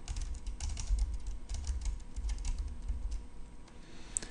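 Typing on a computer keyboard while entering MATLAB code, a quick series of soft, close key clicks in an uneven rhythm over a quiet room hum, with no voices.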